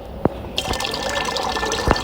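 Water poured in a survival crafting video game, a short splashing fill with a couple of sharp drip-like clicks at the start and end.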